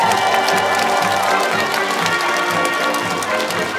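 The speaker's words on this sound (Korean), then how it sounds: "여러분 다시 한번 박수 보내주실까요?" Crowd applause at an outdoor military band festival opening ceremony, a steady loud wash of clapping with some cheering that holds for the full stretch.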